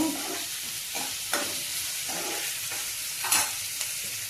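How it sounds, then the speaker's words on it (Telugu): Sliced onions fry and sizzle in a pan, turning brown, with a steady hiss broken by a few louder bursts as they are stirred, close up and without talk. "ఇదిగోండి ఉల్లిపాయ కొంచెం బ్రౌన్ అవ్వాలండి."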